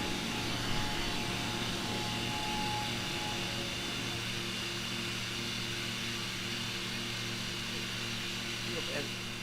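Steady engine drone from an Icon A5 light amphibious aircraft climbing out after takeoff near Rio de Janeiro, a constant close hum with tonal harmonics filling the cabin, voices talking over it.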